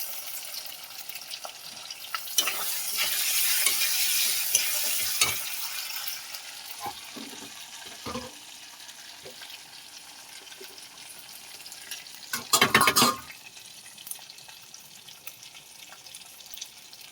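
Ginger paste, cumin paste and chopped tomatoes frying in a pan for a pepperless shing fish curry, a steady close sizzle with scattered stirring clinks and a louder burst of spatter near the end.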